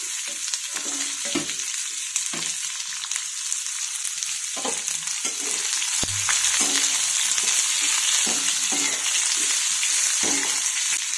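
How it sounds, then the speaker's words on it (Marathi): Sliced onion sautés over full flame in a pan with mustard seeds, cumin and curry leaves, a constant bright sizzle broken by repeated spatula stirs and scrapes that grow a little louder toward the end. "कांदा मी फुल गॅसवरती परतून घेणार आहे आणि त्याच्यानंतर आपण मंद गॅस करू"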